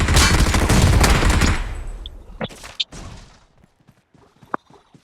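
A burst of rapid gunfire rattles for over a second, then stops, followed by a few scattered sharp shots and clicks in quiet.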